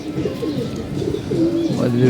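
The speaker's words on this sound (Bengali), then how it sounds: "কবুতর বসে রয়েছে একটা নর একটা মাদি" Pigeons, a male and a female, coo in soft repeated throaty calls close by, with faint chirps in the background.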